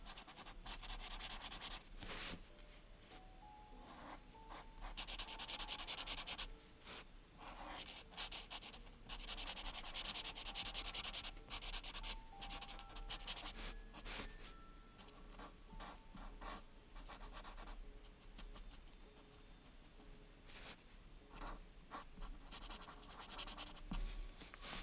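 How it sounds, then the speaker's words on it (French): Steady scratchy rubbing of a colouring tool filling in a flat area of colour on paper, close and continuous with brief pauses between strokes, for a snowy house in a cosy Christmas colouring book. "attends Toslin, je finis juste l'aplat de couleur"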